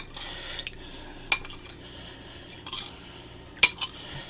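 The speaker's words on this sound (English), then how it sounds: "I'm going to mix my shrimp in here and try to get it good and coated" A utensil clinks against a bowl while peeled shrimp are stirred to coat them, a few sharp metallic taps over quiet wet mixing at close range.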